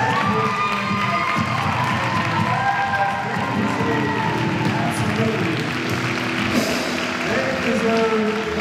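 A steady, dense wash of clapping and cheering from a large audience at a community event, with shouts and children's voices mixed in and sustained throughout.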